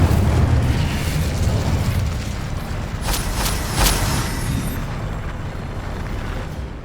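A roaring Incendio fire spell blast in Hogwarts Legacy, loud and rumbling from the start, with a few sharp crackling bursts midway before it slowly fades.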